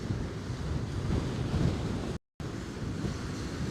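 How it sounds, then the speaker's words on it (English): Strong wind roars over crashing surf at Coney Island, New York City, in a dense, continuous rush, cut briefly by a short silent gap before resuming. "it's getting windy out here"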